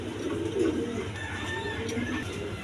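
A pair of high-flying Giribaz pigeons coo softly, with repeated low, murmuring calls close by against faint background noise and a hint of distant voices.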